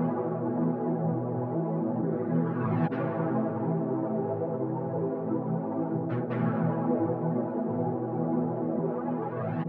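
Pitched-down music loop processed with spring reverb, flanger and a reversed chop, a dense steady wash of sustained tones with a couple of brief swooshing sweeps, continuous and fairly loud.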